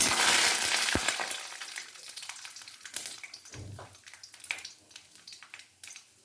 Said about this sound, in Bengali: কড়াইতে তেল গরম হয়ে গেছে আমি নারকেল কটা ভেজে দেবো